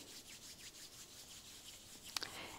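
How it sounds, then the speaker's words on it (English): Palms of the hands rubbed together produce a soft, quiet, continuous swishing friction, close and gentle, ending with a couple of small brief taps. "feel the sensations which you are creating in the palms of the hands with the action of rubbing"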